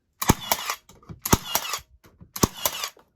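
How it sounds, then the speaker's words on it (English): Milwaukee M12 cordless brad nailer in single-shot mode driving nails into a wooden stud: three sharp, loud snaps about a second apart, each followed by a quick mechanical clack and brief rattle. "I'm just gonna shoot it right into the stud."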